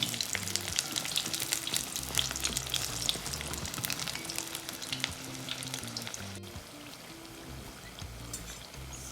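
Jamaican saltfish fritters sizzle in hot oil in a pan, a steady close crackle with occasional sharper pops and a brief clink of a utensil, no talking.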